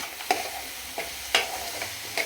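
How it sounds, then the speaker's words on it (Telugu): Coconut halwa with cashews and almonds stirred in a pan, heard as a few soft scraping strokes and taps spaced about a second apart over a quiet background. "దీంట్లో జీడిపప్పు బాదం పప్పు వేసేసుకుందాం వేసుకుని ఒకసారి మళ్ళీ కలుపుకుందాం బాగా"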